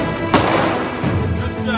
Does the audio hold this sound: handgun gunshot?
yes